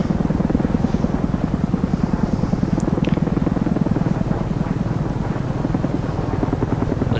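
CH-47 Chinook helicopter flying in the DCS World game, a steady, loud rotor thump and droning engine roar holding a constant rhythm throughout, with a few faint higher tones above.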